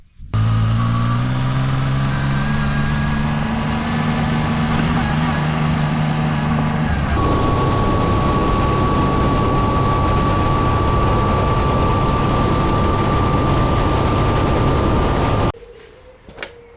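A Zontes ZT 703F motorcycle being ridden, its engine droning loud and steady with a tonal whine while wind noise rushes constantly over it, ending abruptly near the end.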